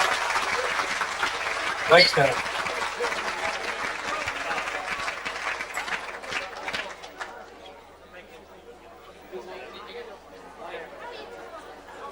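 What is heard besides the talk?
audience applause at memorial concert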